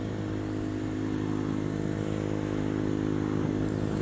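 A motorcycle runs through high-speed bends, its engine giving a steady, continuous drone with a constant tone throughout and no voices.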